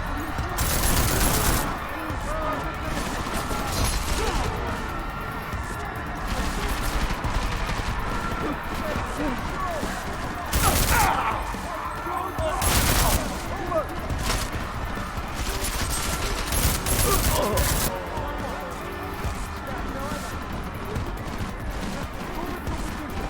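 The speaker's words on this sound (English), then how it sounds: "I'm getting reports of gunfire in Apex Center." Loud, dense gunfire in the video game Deus Ex: Mankind Divided, with repeated heavy bursts and crashes, continuous and chaotic, like a close-range firefight.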